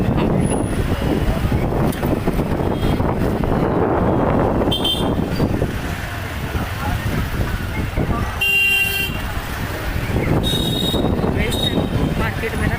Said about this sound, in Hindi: पीछे से हॉर्न वगैरह की आवाज़ आ रही है